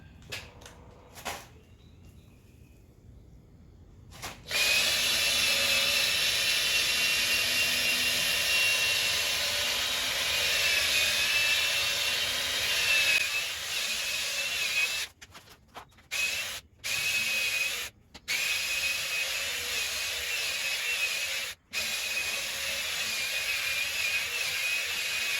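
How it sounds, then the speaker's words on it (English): A paddle mixer on a drill churns a tub of Lizard Skin coating with a loud, steady whirring drone that runs for several seconds at a time, broken by brief stops and restarts toward the end. "I'll get the paddle mixer"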